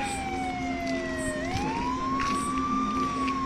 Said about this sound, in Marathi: Fire rescue van.